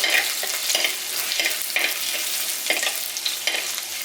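Chopped garlic sizzles in a pan for a curry while it is stirred, the steady frying hiss broken by regular scraping strokes of a spoon, close and fairly loud with no voices.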